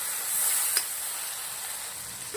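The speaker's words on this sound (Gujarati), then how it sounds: "થોડું મીઠું, થોડી હળદર, ટામેટા 2 મિનિટ શેકાવા દેશું" Tomatoes roast in a pan with salt and turmeric, giving a soft steady sizzle and hiss with one brief clink early on, no talking.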